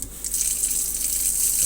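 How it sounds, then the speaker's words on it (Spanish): Water runs steadily from an opened tap during a check of a gas water heater, a continuous hiss of flow heard alone and fairly close. "Abrimos un grifo"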